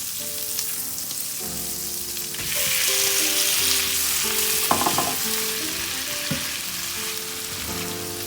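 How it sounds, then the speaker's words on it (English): Shrimp fry in garlic butter over medium heat, giving a steady, close sizzle that swells partway through. Soft background music plays underneath, and no one speaks. "And while the shrimp is cooking, I'm actually gonna flavor it."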